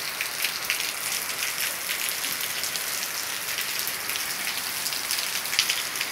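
Heavy rain pours steadily in the countryside of Maranhão, Brazil, a dense, continuous hiss with scattered sharper drops, close and even throughout with no voices.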